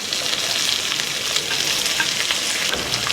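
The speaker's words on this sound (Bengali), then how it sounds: "খুব ভালো মতো বিট আর গাজর ভেজে নেওয়া হয়ে গেছে।" Beetroot and carrot frying in a pan, a steady close sizzle and crackle throughout with light stirring, no talk.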